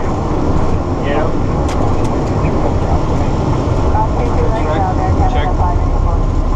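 An Airbus 330 roars on takeoff from Newark, a loud, sustained broadband jet-engine rumble heard from inside the cabin, with people talking over it.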